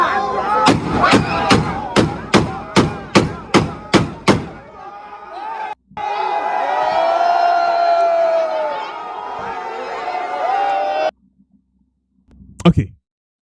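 A rapid series of about nine loud, sharp gunshot sound effects fired in quick succession, followed by a crowd roar and a final burst near the end.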